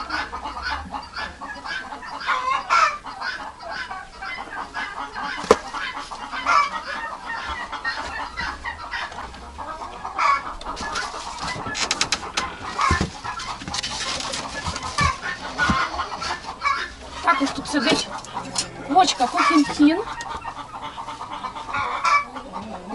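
Broody hens clucking in a coop while sitting on eggs, with a turkey nearby. The low clucks and grumbles come up close and keep going irregularly, with no talk over them.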